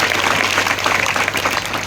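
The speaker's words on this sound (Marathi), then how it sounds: "त्यांच्यासाठी जोरदार टाळ्या झाल्या पाहिजे" An audience at a Warkari kirtan in Bhalegaon breaks into loud, dense applause, a steady wash of many hands clapping together at once, sustained and fairly close, with no voices heard over it.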